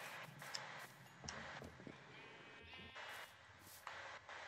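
Sheep in a video game farm bleat repeatedly, with several short, fairly close calls spaced across a steady background hum and no talk.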